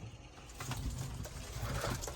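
Young pigeons, white and feather-footed fancy birds kept on a rooftop loft, coo softly and repeatedly in a low murmur, close by, with no talk.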